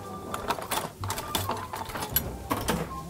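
A seasoned mixture with salt and pepper being whisked in a bowl for brunch pockets, rapid rattling clicks of the whisk in quick uneven bursts, close by and without talk.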